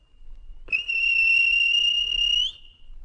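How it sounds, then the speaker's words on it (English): A railway guard blows a whistle on a model railway scene: a single clear, steady shrill blast lasting nearly two seconds, loud and close against a quiet background. "the guard blew his whistle"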